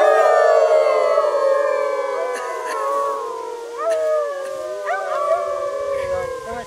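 Children's voices mimic a wolf howling in a tunnel under a railway, long sustained howls that rise and fall over several seconds, loud and echoing, with overlapping voices sliding in pitch.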